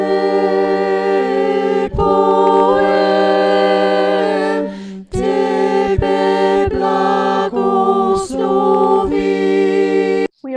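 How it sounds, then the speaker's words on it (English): An artificial choir quartet mixture from the Dagstuhl ChoirSet layers four sung voices into held, stacked chords that shift pitch together, with short breaths and breaks between phrases and no speech. "we are combining together the individual recordings of each of the singers of a quartet that sounds like this"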